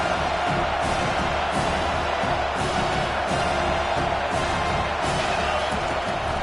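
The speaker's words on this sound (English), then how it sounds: "This crowd going to try to make life miserable for these guys." Stadium crowd roar from a college football video game, a steady dense wash of distant cheering and murmur with no breaks, broad and continuous throughout.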